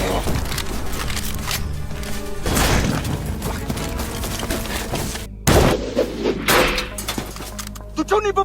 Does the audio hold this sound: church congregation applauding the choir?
no